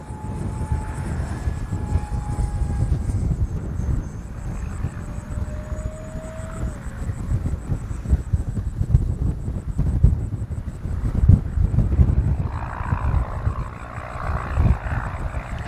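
An Arrows 50mm T-33 RC electric ducted-fan jet flies through gusty wind, a distant whine under heavy wind rumble and buffeting on the microphone, steady throughout with no talking.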